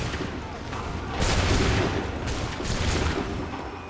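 A musket volley roars from a line of soldiers in Assassin's Creed 3, with a dense crackling burst of many shots and a second rolling wave, loud and sustained.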